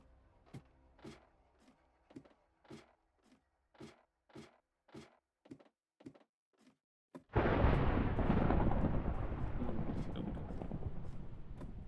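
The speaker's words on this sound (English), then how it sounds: "can still hear the thunder like it's right next to me" Thunder in the Minecraft video game, a sudden loud crack and long rolling rumble after a series of evenly spaced soft footstep-like thuds, heard from deep underground yet sounding close.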